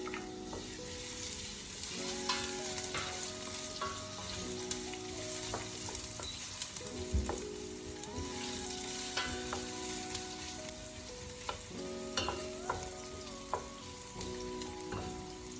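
Ginger sizzles in hot cooking oil in a casserole pan for chicken tinola, making a steady low crackle under faint music.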